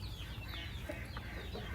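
A chicken kept in a small backyard pen gives soft, quiet clucks, several short calls spread over a moment against faint background noise.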